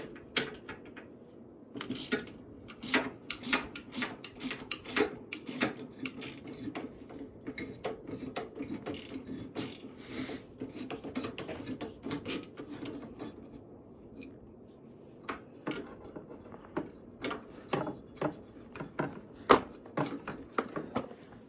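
Wrenching out the rear rack bolts on a 1991 Polaris Trail Boss 250 four-wheeler, a close series of sharp metallic clicks and ratcheting taps in irregular bursts, steady through most of the stretch with brief pauses.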